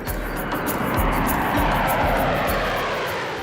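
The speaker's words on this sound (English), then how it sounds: "Domestic Afghani planes share the runway with Chinooks and Hercules." Military aircraft on the runway at Kandahar airfield, where Chinooks, Hercules and Harriers operate: a steady, loud engine roar runs through the whole clip with a rhythmic propeller-like beating.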